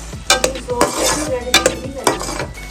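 A spoon stirs red chili and soy sauce into a pasta sauce in a metal pan, making repeated clinks and scrapes against the sides over a faint sizzle.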